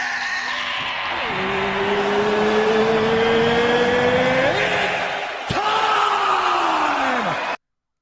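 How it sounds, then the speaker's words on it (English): Race car engines fire up and rev in a steady rising drone, with a second car's pitch sweeping up and dropping off, loud and close over a crowd at an esports watch party. "gentlemen, start your"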